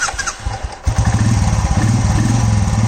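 A Royal Enfield motorcycle with a repaired self-start issue cranks and catches, then settles into a loud, close, steady thumping idle that runs through the rest of the clip.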